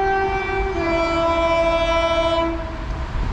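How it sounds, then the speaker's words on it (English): A South Western Railway passenger train on the Chessington South to London Waterloo service passing close by, a loud steady roar with a sustained two-tone horn blast that drops partway through, alone without voices. "passing through now is going to be a South Western Railway service from Chessington South to London Waterloo"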